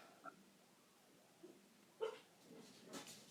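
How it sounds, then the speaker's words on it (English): A few faint, brief dog barks and yips ring out from a distance in a quiet indoor room, scattered short bursts rather than a steady run. "If y'all hear my dogs barking"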